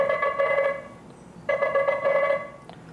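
A Nothing Phone 2a rings with an incoming call, a close, clear electronic ringtone playing in two bursts with a short pause between.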